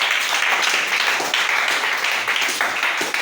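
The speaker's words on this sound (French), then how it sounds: "Acclamez pour Frère Branham ça comme on fait" A church congregation applauds with loud, sustained clapping from many hands, steady throughout and alone without talk.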